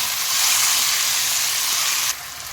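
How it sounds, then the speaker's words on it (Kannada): Curry leaves and chopped capsicum frying in hot oil for a tomato bath masala: a steady, bright, close sizzle that holds evenly, then drops slightly quieter toward the end. "ಇದೆಲ್ಲವನ್ನು ಈಗ ಚೆನ್ನಾಗಿ ಫ್ರೈ ಆಗಬೇಕು."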